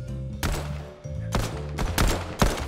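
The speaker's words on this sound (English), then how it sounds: "I hear gunshots!" Several loud gunshots in the Fortnite video game, sharp close cracks in a rapid irregular series over a steady in-game hum, with no voices.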